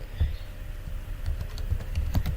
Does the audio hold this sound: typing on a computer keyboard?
yes